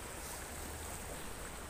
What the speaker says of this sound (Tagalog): Ilang sulog kan tubig oh.